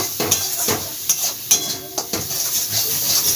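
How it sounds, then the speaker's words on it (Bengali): Spice masala sizzles in a pan while a spoon stirs and scrapes, sharp clinks of utensil against metal repeating every half second or so over a continuous frying hiss, no voices. "এটা মশলাটা এবার কষিয়ে নেব"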